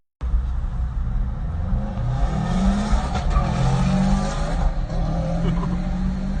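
An old Subaru GC8 being driven hard in a street race squeals its tires loudly and continuously, the engine roaring beneath, the screech rising and wavering in pitch across several seconds.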